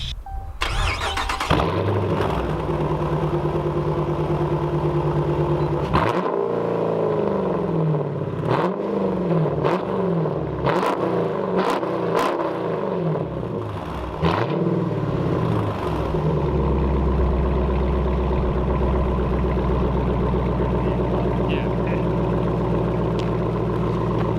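A straight-piped 2015 Dodge Challenger R/T V8 with no mufflers, only a catalytic converter, starts up and is revved repeatedly in loud bursts, each blip swelling and falling, before settling into a deep, steady rumbling idle close by.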